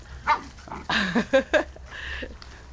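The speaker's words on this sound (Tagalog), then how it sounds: "kunan mo yung mga aso ko nag-aaway" Dogs snarl, yip and bark in short bursts close by, sounding like a scuffle between them.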